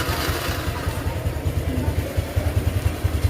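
A Honda Revo motorcycle engine, started remotely through an anti-theft alarm, runs at a steady idle with a rhythmic low thumping pulse and a mechanical clatter, close by and alone.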